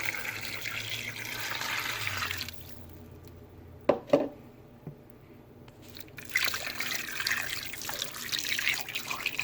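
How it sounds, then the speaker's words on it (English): Water poured into a crock pot for an oxtail dish, a steady liquid rush that drops away briefly with a couple of small splashes and clunks, then resumes as a continued pour or trickle close by. "And then I'm going to add about 4 cups of water."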